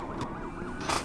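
Police sirens wail in a car chase in the video game Need For Speed Payback, rising and falling briefly at moderate volume amid engine noise.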